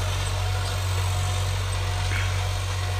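An old farm tractor engine runs close by with a loud, steady, low throbbing drone and no breaks, the continuous mechanical rumble filling the whole stretch.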